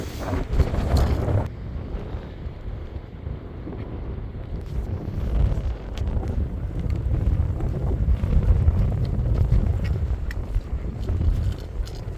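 Strong gusting wind on a hillside trail near Tehachapi buffets the microphone with a low, rumbling roar that rises and falls throughout, with no voices present.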